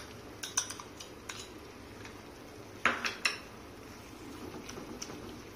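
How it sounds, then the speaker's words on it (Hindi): A spoon stirs masala with yogurt and cream in a metal pan for a veg thali, giving faint scraping and a few sharp clinks against the pan at an uneven pace, with no talk. "लगातार चलाएंगे नहीं तो दही फट जाता है।"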